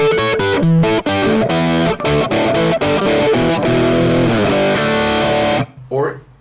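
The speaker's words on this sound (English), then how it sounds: "So let's try it with some distortion." An electric guitar lick is played through heavy distortion, with a rapid run of picked notes and short chopped gaps, ringing loud and close before cutting off near the end.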